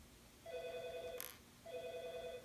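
A telephone rings indoors in two electronic bursts with a short gap between them, moderately loud against a quiet room.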